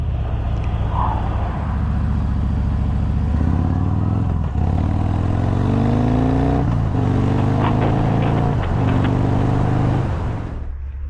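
A 2022 Harley-Davidson Street Glide ST 117 motorcycle rides steadily, its loud engine droning with rising and falling revs and shifting gears. Wind noise runs throughout, and the sound fades out at the end.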